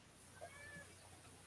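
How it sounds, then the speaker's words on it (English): A hairy cat with a hurt nose gives a faint, brief meow near the start, with a second soft call at the end, over a low indoor hum. "Hairy cat."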